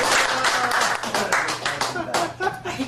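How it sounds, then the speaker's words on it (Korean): An audience at a speech gathering claps together, irregular and fairly close, overlapping with voices talking. "박수 치겠습니다."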